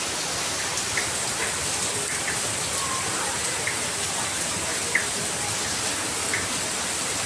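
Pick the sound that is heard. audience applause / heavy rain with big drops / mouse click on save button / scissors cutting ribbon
heavy rain with big drops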